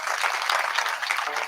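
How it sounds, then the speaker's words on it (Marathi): Audience applause at a religious gathering, a dense steady wash of many hands clapping close and loud throughout. "मला वाटतं या दोन बंधूंसाठी सर्वांनी टाळ्या वाजवाव्या."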